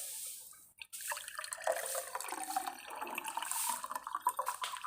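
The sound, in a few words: water draining away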